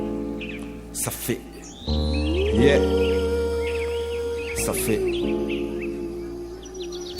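Birds chirp and tweet by the water, their short calls scattered high above a steady music backing with a voice rapping over it.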